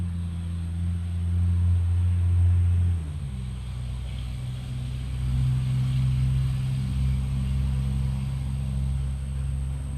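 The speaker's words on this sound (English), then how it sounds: "It was a loud truck going by." A loud truck rumbles past close by, its deep engine drone swelling for the first few seconds, then easing into a steady lower roar that fills the rest of the passage with no talking.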